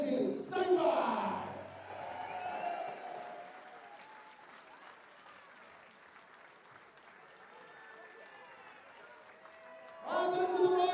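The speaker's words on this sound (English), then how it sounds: "Let's give a massive round of applause for Kenji Steinbach." Crowd applause at the WDF 2024 World Darts Championship, a burst of clapping and cheering that fades into a quieter hall murmur with faint voices, then rises again near the end.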